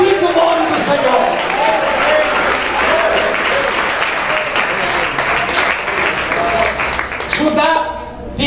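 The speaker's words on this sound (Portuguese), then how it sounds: "Levante a sua mão e não só dê palmas, mas glorifique o nome do Senhor." A church congregation applauds loudly and continuously during a worship service, dense steady clapping that swells and holds, with voices and music mixed underneath.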